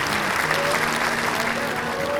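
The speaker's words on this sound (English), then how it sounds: "The crowd applauded and cheered him." A large crowd gathered to watch an archer bursts into dense applause and cheering, a steady unbroken roar of clapping that holds at the same loudness from start to finish.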